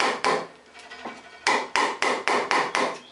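Sharp hammer blows strike a chisel carving a wooden stool seat by hand: a couple of separate knocks, then a steady run of five or six evenly paced, resonant wooden strikes, close and clear.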